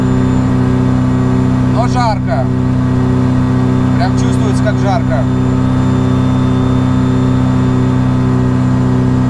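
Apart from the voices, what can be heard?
motor glider engine during takeoff climb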